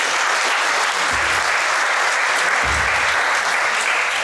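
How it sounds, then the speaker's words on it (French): Audience applause fills a ceremony hall for a book presentation on the Cameroon–Nigeria border dispute, a dense, steady clapping from a large crowd that continues evenly throughout. "On peut applaudir pour ces deux États."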